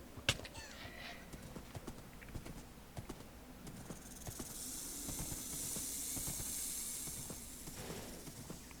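Irregular video-game horse hoof clip-clops in Minecraft plod along steadily, joined later by a hissing, wind-like wash of noise over the ground sounds.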